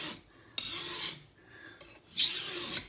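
A kitchen knife is drawn across a whetstone to wear down the burr, giving three distinct rasping strokes, close and fairly quiet, with short pauses between them.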